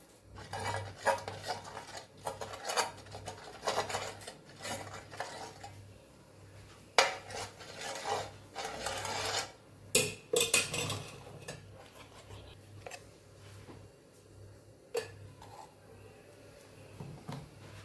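Pudla batter is spread on an oiled griddle pan over a gas flame, with soft scraping and clinks of a spoon against metal coming in irregular bursts, fairly faint, with no talk.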